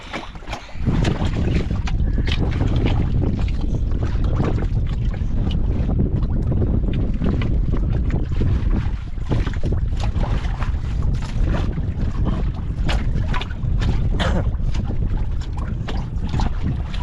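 Strong wind blasts across the microphone on a small fishing boat at sea, a loud, continuous roaring buffet with gusty surges and water noise beneath, no voices.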